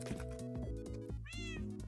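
A Minecraft cat meows twice, loud drawn-out calls close by over a steady background of repeating musical tones.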